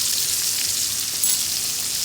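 A steak sizzling in a pan on a stovetop, a loud, steady, close hiss of frying fat that holds constant throughout.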